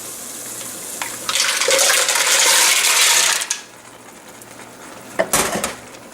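Mussels tipped into a pot of broth for moules provençales: a loud, close rattling splash of shells and liquid lasting a couple of seconds, followed by a brief second clatter.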